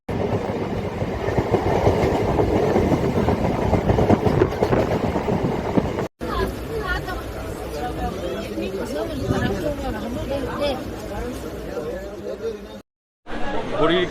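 A train pulls into Namkhana station with a continuous rumbling, clattering roll of wheels on rails, while crowd chatter and nearby people talking run underneath throughout.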